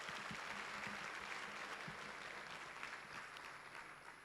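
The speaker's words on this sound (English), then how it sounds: "Let's give them all another huge round of applause." Audience at The Herald NMU Citizens of the Year 2025 awards ceremony applauding, a faint, distant wash of sustained clapping with a steady texture throughout.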